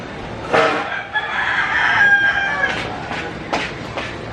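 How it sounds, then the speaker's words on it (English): A rooster crows in Southeast Asia, one long drawn-out crow that rises and holds, followed by a few shorter, sharper calls, fairly close and clear with no talking. "I'm gonna fucking chuck a rocket that chicken."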